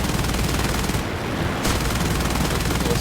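Rapid machine gun fire from a War Thunder game, a dense continuous rattle of shots that breaks off briefly mid-burst and then resumes, loud and steady.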